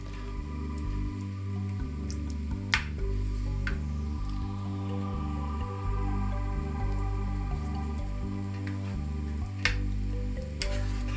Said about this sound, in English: Add the marinade to the pan. Another minute, stirring often.